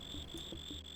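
Cicadas in a dark outdoor scene of the Ultima VIII: Pagan video game, a continuous high, thin insect drone under soft pulsing chirps, steady and fairly quiet with no voices.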